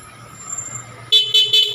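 Stock horn on a Yamaha Aerox 155 scooter, sounded up close in three short, loud toots after a quiet stretch of low idle-like hum.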